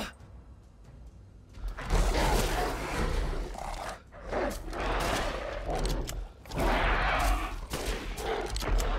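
Loud gunfire rattles in Resident Evil Village: heavy bursts of shots and rumbling blasts come in several waves, separated by brief lulls.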